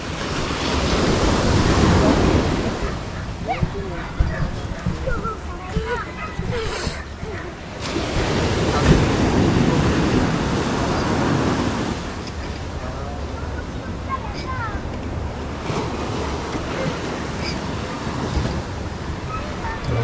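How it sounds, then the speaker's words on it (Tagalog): Ocean waves and surf heard from a boat at sea, a continuous washing roar with heavy wind buffeting the microphone and a swell that rises midway, with people talking faintly underneath. "May alon na naman."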